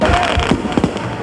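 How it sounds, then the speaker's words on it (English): Fireworks bursting over a stadium before a night football match between Sydney United and South Melbourne, a series of loud booms and crackles about half a second apart, heard with crowd noise underneath. "The fireworks that lit the night sky before the match"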